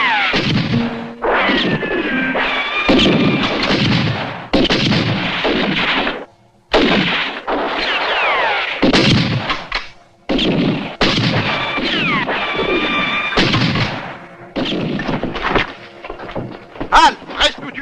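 Gunfire erupts during a shootout in the 1968 Western film "Tire, Django, tire", with repeated shots and crashes layered over shouting voices and dramatic sound, and loud sharp cracks near the end.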